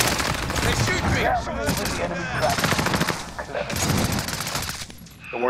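Rapid automatic gunfire in a team shooter video game, dense bursts of shots in several loud volleys with short gaps, while a player shouts excitedly over the firing.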